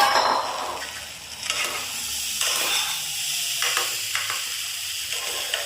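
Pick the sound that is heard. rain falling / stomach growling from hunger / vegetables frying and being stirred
vegetables frying and being stirred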